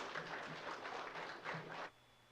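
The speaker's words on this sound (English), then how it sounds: "Give a round of applause, please, for our City Administrator, Mr. Mario Cruz." Audience applause at a city council public meeting for an end-of-year report, a broad wash of clapping for about two seconds that cuts off abruptly into quiet room tone.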